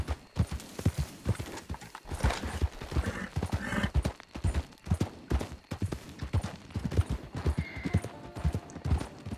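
Horse hooves clip-clop at a steady walking rhythm in Red Dead Redemption 2, close and fairly loud, with occasional faint whinnies and background game ambience.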